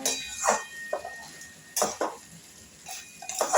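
Metal lid set onto a cooking pot of fish, a few sharp clinks and clatters of pan and cover close by, separated by quiet pauses.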